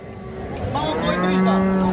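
A cow moos loudly and at length at a cattle market, one long, drawn-out bellow close by that rises and holds steady, over faint background bustle.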